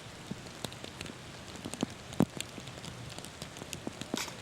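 Steady rain falls across a wooded, uphill disc golf course, a faint wash of patter with scattered louder drips landing nearby, no voices.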